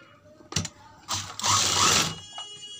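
Sewing machine attaching piping along the edge of a kurti back neck, a short clatter and then a run of stitching lasting about a second, close by with no voices.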